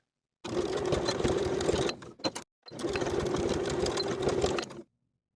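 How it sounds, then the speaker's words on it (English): A sewing machine edge-stitches along the fold of a bag strap in two steady, humming bursts, separated by a short pause with a few quick clicks. "I'm going to top stitch twice, first edge stitching close to the fold I created on the wrong side of the strap"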